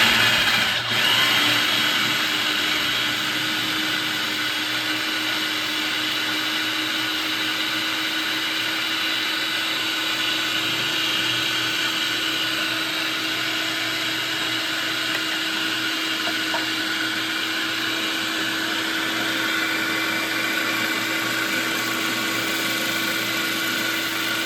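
Kitchen blender pulverizing mushrooms for mushroom pâté, a loud continuous motor whine with a steady high hum, running unbroken for about twenty-four seconds with no talking.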